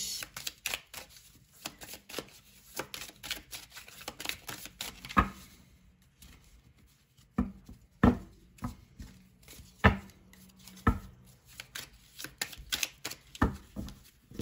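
A deck of cards is shuffled and cut, giving runs of crisp riffling flicks and sharp slaps in irregular bursts, close up and without speech.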